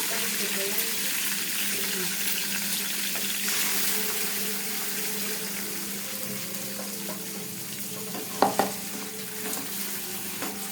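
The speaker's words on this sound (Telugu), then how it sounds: "ఇప్పుడు వేగినాక ఇందాక చూపించా కదా మసాలా యాడ్ చేస్తున్నాము" Masala stirs into sizzling hot oil with curry leaves and green chillies for a bitter gourd curry, a steady close frying hiss throughout with a couple of sharp clinks near the end.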